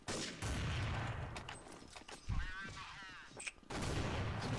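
Gunfire in the video game Counter-Strike 1.6, bursts of dense shots filling most of the moment, broken by a short pause where a muffled voice briefly cuts through.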